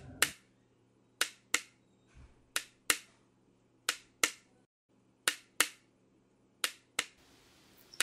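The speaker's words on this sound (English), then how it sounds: "they had something called a clapper stick, which is a stick that you hit against the palm of your hand" A Tongva clapper stick struck against the palm of a hand gives sharp, dry wooden claps, about a dozen in an uneven rhythm of singles and pairs, close and clear against a quiet background.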